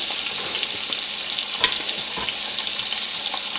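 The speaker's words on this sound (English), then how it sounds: "They're frozen in the center, so I'm only searing the outside" Frozen steaks sear in a hot pan with a steady, close, broadband sizzle throughout, broken by a few brief clicks and scrapes as they are shifted.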